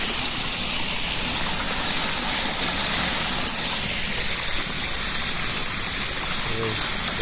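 Water from a borewell motor gushing steadily into a roadside drain beside a farm field, a loud continuous rushing wash that holds for the whole stretch, with a faint voice near the end.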